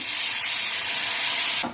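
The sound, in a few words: water added to cooking mango chutney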